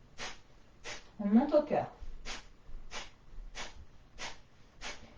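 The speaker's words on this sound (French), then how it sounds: "5 respirations au nombril avec Kapalabhati." Kapalabhati breathing: sharp, forceful nasal exhalations come in a steady rhythm about every 0.7 seconds, close and clear, broken once by a brief spoken phrase.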